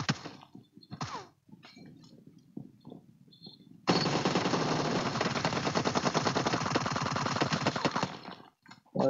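Sustained automatic gunfire from PUBG Mobile, a long loud burst of rapid shots lasting several seconds after a few scattered quieter shots and thuds, with no talking over it.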